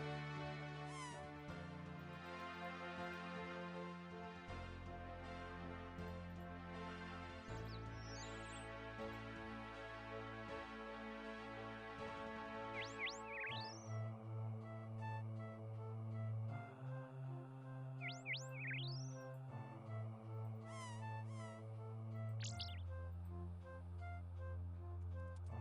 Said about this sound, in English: you hear kittens mewing nearby